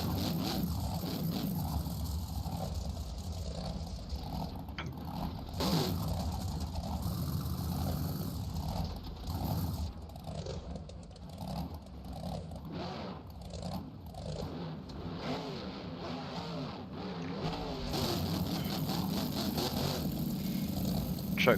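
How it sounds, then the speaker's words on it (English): Race trucks at a Beam Jam event in Orlando, Florida roll toward the starting line, their engines a steady mid-pitched idle and rumble with no break, somewhat distant, under a continuous wash of crowd and venue noise. "trucks are headed to the line right now."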